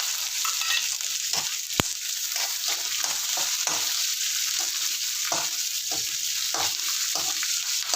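Chillies and curry leaves fry in hot oil for mango rice, a dense steady sizzle throughout, with light intermittent stirring scrapes and one sharp click near the start.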